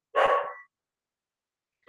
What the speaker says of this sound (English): Usually when my dog barks like that